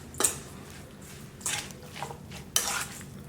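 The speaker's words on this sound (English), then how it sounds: "Just gonna give it a little mix." Seasoned choripán filling being mixed with fresh black pepper in a bowl, with a few clinking scrapes of a utensil against the dish spaced by quiet pauses, close but faint.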